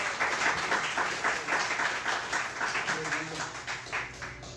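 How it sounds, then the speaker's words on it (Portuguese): A church congregation applauds in sustained, dense clapping that swells and dips in waves, with a faint murmur of voices underneath. "Você pode aplaudir ao Senhor com o seu melhor."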